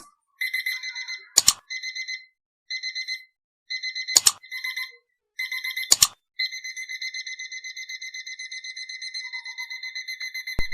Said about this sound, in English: So after 1 minute the alarm will ring.